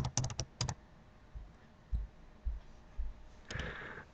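Keys on a computer keyboard tapped in quick bursts, a rapid cluster of clicks at the start, then scattered single taps and a final short run, close and soft.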